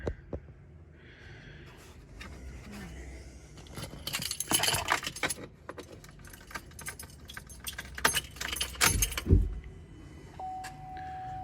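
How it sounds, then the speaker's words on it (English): Keys jangle and click close by as the ignition of a GMC Acadia is switched on, in irregular bursts of metallic rattling over a faint interior hum, followed near the end by a steady electronic tone. "Now we're gonna turn the key on."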